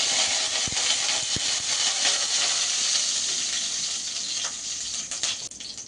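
Close, continuous sizzling and hissing of curry leaves and green chilies frying in hot oil after mustard seeds pop, with a few sharp pops and crackles scattered throughout.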